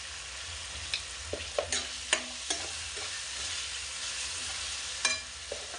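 Tomatoes fry in a pan with a steady soft sizzle as dry spices are stirred in, with a few clinking taps of a spoon on the pan rising above the hiss.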